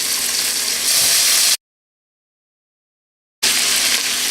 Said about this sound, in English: Got a large hot wok here. I'm going to start browning some of my meat.